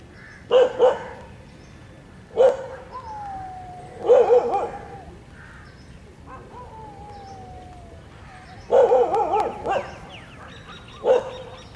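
A dog barks in several separate bursts, single and double woofs spaced a few seconds apart, loud and near, with a faint siren-like wail drifting between the barks.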